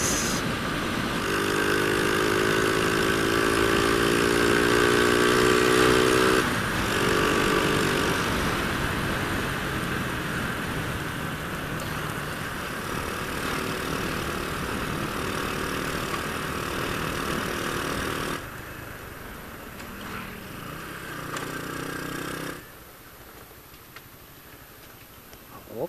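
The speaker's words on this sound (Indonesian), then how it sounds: "Jadi untuk knalpot si Genjo yang sekarang ini tuh saya pakai knalpot ABS Revo ya." A Honda Revo motorcycle engine fitted with an original ABS Revo exhaust runs close by, holding a steady, droning rev with harmonic engine tones that drop in loudness partway through and again near the end.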